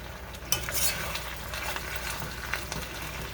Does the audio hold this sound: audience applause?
no